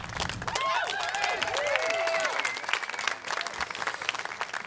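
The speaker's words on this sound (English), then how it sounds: "Let's give her one more big round of applause for conquering a massive fear." A large audience applauds a nervous performer with steady, dense clapping that mixes with cheering and whoops and fills the whole stretch.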